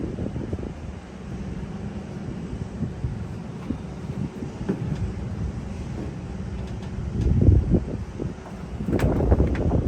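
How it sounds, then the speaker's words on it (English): Steady wind buffets the microphone with low, rumbling gusts, growing stronger toward the end. "it's kind of windy out here"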